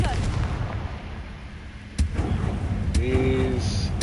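Confringo fire spell cast in Hogwarts Legacy, a sharp blast at about two seconds and another burst near three seconds over ongoing game sound, with a voice briefly speaking.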